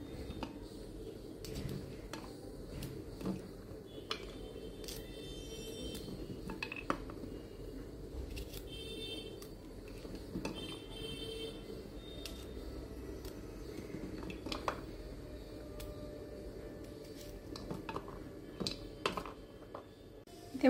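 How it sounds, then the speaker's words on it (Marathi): A knife trims the stems off okra (ladyfinger) and slits the pods, making scattered light clicks and taps against a board and dish. The sounds are fairly faint, close and irregular, with no talk. "पहिल्यांदा आपण हे सगळं असं काढून घेऊया सर्व भेंडीचं, त्याच्यानंतर मग ह्याला मध्ये चिरून घेऊया"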